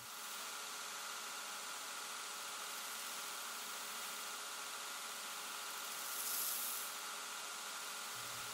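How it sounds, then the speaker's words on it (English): A knife handle on a Loveless-style drop point hunter being rounded on a grinding wheel, a steady loud abrasive roar held throughout with one brief surge of hiss near the end, no talk. "you can kind of rock the knife on the wheel to start rounding off the handle"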